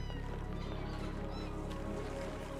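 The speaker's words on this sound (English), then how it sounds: "The pips are just meowing." Pips, the small critters in the space-colony game Oxygen Not Included, let out thin mewing calls over a dense bed of game music and ambient effects, faint and repeated through the stretch.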